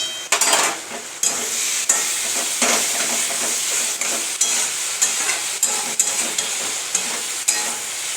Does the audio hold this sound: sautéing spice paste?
yes